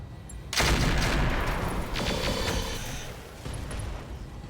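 Mech weapons fire in the RogueTech BattleTech video game, including a Gauss rifle, heard as a sudden heavy burst of booming, crackling gunfire and explosions that rumbles on and gradually fades, with a second, smaller volley near the end.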